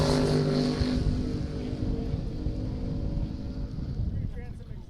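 A Baron Sprint rat boat with through-transom exhaust idles and rumbles on the water at a marina beach party, a loud, steady low engine drone that eases slightly after the first second, with crowd noise around it.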